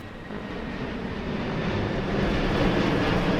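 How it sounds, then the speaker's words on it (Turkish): In the video game Teardown, three airplanes fly in with a low, rumbling engine roar that grows steadily louder as they approach, with no talk over it. "O zaman ben var ya bir 3 tane uçak göndereyim."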